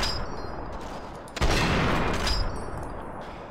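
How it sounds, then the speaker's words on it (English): Gunfire from the Fallout 3 video game, fought against a sniper at a public library: a sharp close shot followed by a rattling burst, over a constant background of game ambience. "Those were some good shots"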